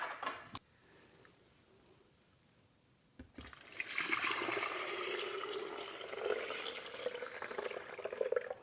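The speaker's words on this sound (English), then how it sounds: "I'm going to add some warm water." Warm water pours into the jug of a Nama M1 juicer for cleaning, a close, steady splashing stream that starts after a short quiet pause and keeps running.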